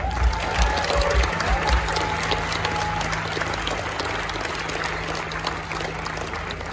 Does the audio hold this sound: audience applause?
yes